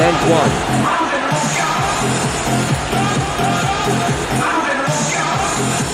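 A baseball stadium crowd between the Tampa Bay Devil Rays and Toronto Blue Jays roars in a steady, dense wash of cheering and yelling, heard from a distance behind continuous broadcast commentary.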